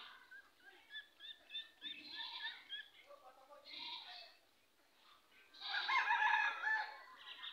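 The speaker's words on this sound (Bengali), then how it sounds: "দেখেন কত সুন্দর সুন্দর হাঁস মুরগি।" Poultry in a rural Bangladeshi village yard where women raise ducks and chickens give out repeated clucks and crowing-like calls, moderately close, in bursts with a louder rising call near the end and no talk.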